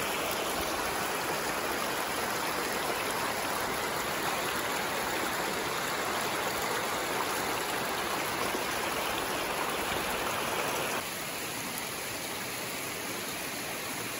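Water pours steadily down from a dam roughly 50 to 60 feet high, a loud, continuous rushing roar close by that carries on unbroken and eases slightly toward the end.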